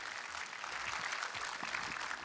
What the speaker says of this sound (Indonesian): Tepuk tangan yang luar biasa sekali lagi buat Pak Dino